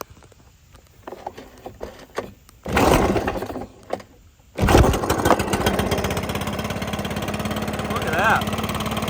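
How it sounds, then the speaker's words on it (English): A small-engine blower gets a pull-start attempt, then catches and roars, settling into a loud, steady running drone close by, with a person talking briefly before it fires up. "the blower will start back."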